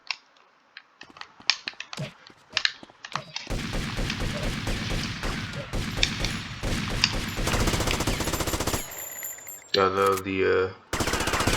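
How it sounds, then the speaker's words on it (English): Characters in GTA Vice City shooting at each other, with scattered single shots at first, then dense rapid automatic gunfire and loud bursts. A voice speaks briefly under the shooting. "they start shooting each other really"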